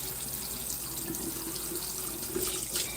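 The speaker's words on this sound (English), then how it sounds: "Oh, I gotta wash that dish while there's water in there." Washing a dish in soapy water at a kitchen sink, with steady splashing and running water sloshing continuously, close and even in level with a few brighter splashes.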